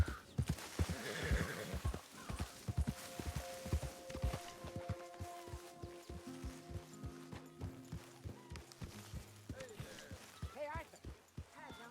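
In the video game Red Dead Redemption 2, a horse whinnies near the start, followed by a steady clip-clop of hooves, with voices and faint music underneath.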